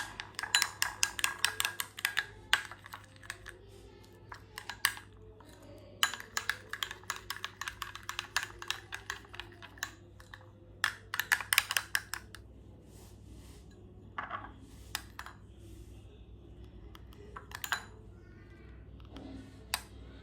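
A spoon stirs coffee powder and a pinch of turmeric into a face pack in a small bowl, giving repeated scraping and clinking bursts, fairly close, with brief pauses between.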